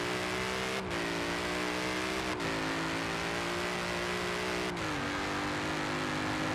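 A Ford Mustang with a very short ten-speed gearbox revs hard in Forza Horizon 4, its engine note climbing steadily and dropping sharply at quick gear shifts, loud and continuous throughout.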